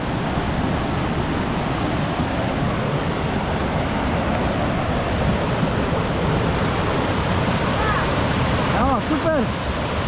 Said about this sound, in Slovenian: To je pa slap Butori.